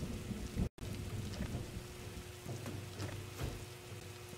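Rain falls in the Roblox video game, a steady broadband patter with faint low rumbles throughout and a brief cutout early on, heard alone without talk.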